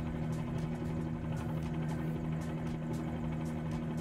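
A helicopter engine in Microsoft Flight Simulator 2020 drones steadily with a low, even hum and faint rhythmic rotor pulses, continuous and moderately quiet with no talking.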